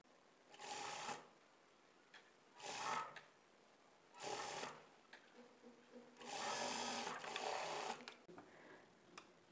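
A sewing machine stitches a blouse piece in four separate bursts, the last one longest, each a fast close whirring rattle with quiet pauses between.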